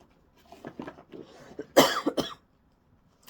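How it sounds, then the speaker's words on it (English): Quiet murmuring gives way to a couple of sharp, close coughs from a dry throat, followed by a short pause of silence. "I'm sorry, my throat is so dry and I'm coughing a lot."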